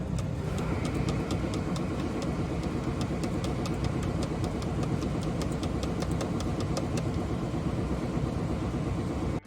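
A damaged Cummins VTA diesel engine with a failed valve spring retainer and valves smashed by the pistons runs loudly and steadily, a dense rumble overlaid with a rapid, regular metallic ticking clatter throughout, with no voices.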